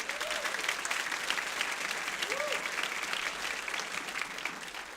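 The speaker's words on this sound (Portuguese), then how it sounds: "Vamos dar um aplauso ao Senhor Jesus?" A congregation claps in a church service, producing a steady, dense patter of applause that holds at an even level for several seconds, with a couple of faint cheering voices rising briefly within it.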